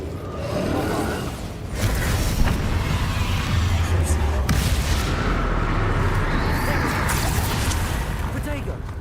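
Rumbling spell blasts and magical effects fill the Hogwarts Legacy battle, a dense continuous roar with booms and crackles while a voice talks over the fighting.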